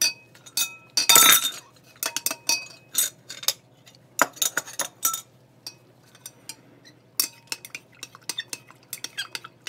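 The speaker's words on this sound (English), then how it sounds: "mix it until it's clear." Lye solution being stirred with water in a glass container, with close, irregular clinks and taps of a utensil against the glass, some clustered in quick runs and others spaced apart, with near silence in between.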